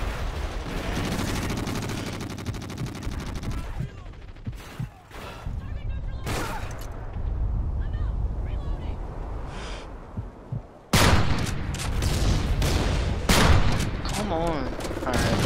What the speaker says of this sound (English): Now I'm gonna snipe this guy in the window.